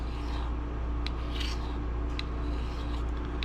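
A traditional broadhead is stroked across the 400-grit side of a sharpening stone to strip off the burr, giving a steady, close rasping rub with a few brighter scrapes, heard alone.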